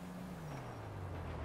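A truck's air brakes hiss in Grand Theft Auto V, a steady airy rush under a low engine idle whose pitch slowly drops, heard alone for a brief moment.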